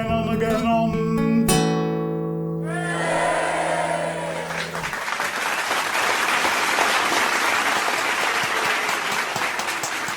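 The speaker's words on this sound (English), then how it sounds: "Let's have another round of applause for Dick Woodhouse." Audience applause breaks out after a live folk song at a folk club, starting as the singer's final sustained notes and guitar ring out, then settling into steady, full clapping from a close crowd for several seconds.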